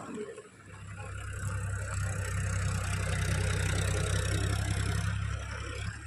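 A tractor engine idles steadily outdoors beside a field. It gives a low, even rumble that holds for several seconds, fairly close, and no one speaks over it.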